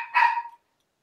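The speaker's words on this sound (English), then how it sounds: "Those are my dogs now." One dog from a household pack gives a single short, sharp bark, close and brief, followed by silence.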